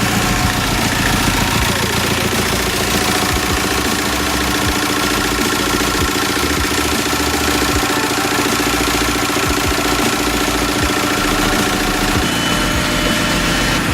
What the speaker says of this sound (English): So she is running on all 4 cylinders, running strong